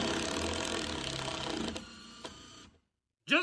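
A screw is driven into a wooden theater platform, giving a steady mechanical whir for over two seconds that cuts to silence, followed by a short, sharp burst at the end.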